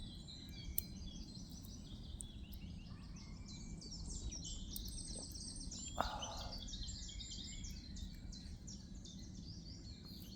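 Birds, including robins, chirp and sing in a wood, scattered high calls overlapping through a steady low outdoor rumble, fairly distant and soft.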